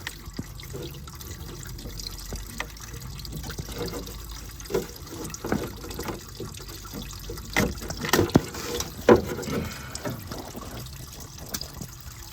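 Diesel fuel draining from a removed fuel filter on a Cummins ISL 8.9 engine in a Newmar Dutch Star motorhome, a steady close trickle and splash of liquid with occasional drips and handling clatter.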